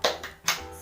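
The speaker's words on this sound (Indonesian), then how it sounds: "kita bersama-sama ya, tepuk semangat terlebih dahulu" Two sharp rhythmic claps of a class cheer in a grade five math lesson, close and crisp, spaced about half a second apart with no talk.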